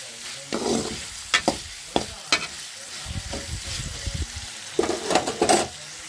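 Ingredients fry in a pan and are stirred with a utensil, giving steady close sizzling and a series of scraping strokes that come in bursts, with no talk over it.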